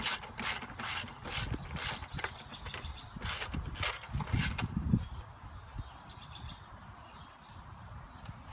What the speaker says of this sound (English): Take a 13mm ratchet,